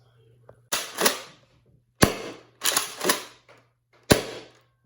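Four sharp, loud pops in quick succession, each a sudden burst with a short rushing tail, from a Nerf Ultra 5 pistol-style blaster firing darts.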